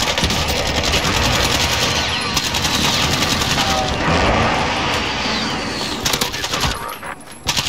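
Dense automatic gunfire and rapid bursts fill a Call of Duty Warzone Rebirth Island match, loud and continuous with mixed explosions and game noise throughout.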